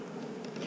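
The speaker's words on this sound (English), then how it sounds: "These bees are very chilled out." Honey bees of Georgia stock drone softly around an open hive box, a faint, even buzzing held low and steady with no voices.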